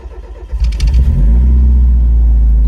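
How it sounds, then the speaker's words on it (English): A Mazda Miata with a fault cranks and catches, then idles as it is moved, starting with uneven bursts before settling into a loud, steady engine rumble, close by. "Gonna move my car so we can move that one"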